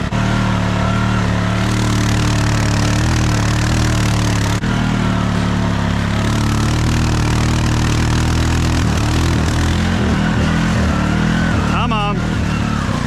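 Polaris and Honda 6x6 ATV engines churning through thick mud, a loud, steady low engine drone with revving surges close by, while people talk over it.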